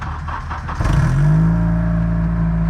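A demolition derby car's medium engine catches after a jump start from a Honda CR-V and settles straight into a loud, steady, close idle with a smooth low hum.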